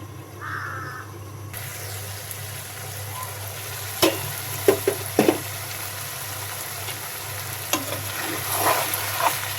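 Duck meat cooks in a pan for coconut-milk curry, a steady low sizzle running throughout while a utensil scrapes and knocks against the pan in a few sharp, uneven strokes.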